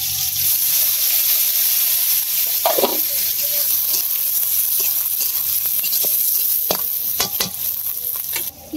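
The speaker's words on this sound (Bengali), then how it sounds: "তেজপাতা দারচিনি দিতে কড়াই গরম হয়ে গেছে, পেঁয়াজ রসুন দিয়ে দিতেছি সব পাশে।" Onion and garlic hit a hot kadai already holding bay leaf and cinnamon, sending up a loud, steady sizzle with a few stirring scrapes near the end, close up and unbroken.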